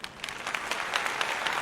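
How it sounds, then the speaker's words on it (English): A canned applause sound effect triggered by a button, a short burst of dense crowd clapping at moderate loudness with no voices. "I'm hitting the applause button."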